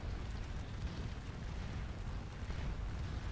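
Cannon fire in a Battle of Waterloo video game, a dense, steady rumble of distant artillery and battle noise filling the background without distinct single blasts.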